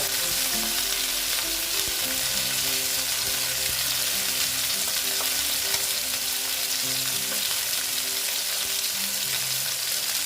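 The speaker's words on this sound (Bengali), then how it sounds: "মাছ ভাজা প্রায় মনে হয় হচ্ছে হয়ে গেছে" Pieces of katla fish fry in hot oil, making a loud, dense, unbroken sizzle over a low steady hum, with no voices.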